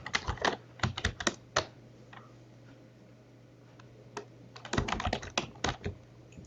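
Typing on a computer keyboard comes in quick bursts of crisp key taps. There is a pause in the middle with only sparse clicks, then a dense flurry of typing. A low steady hum runs underneath, and no one speaks.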